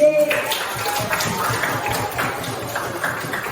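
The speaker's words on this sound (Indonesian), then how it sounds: "Kasih tepuk tangan" Students in a classroom clap their hands together briefly, a short burst of scattered clapping that quickly fades beneath room noise and voices.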